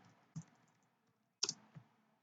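A few separate clicks of keys typed on a computer keyboard, two isolated taps then a quick pair, close and faint in a quiet room.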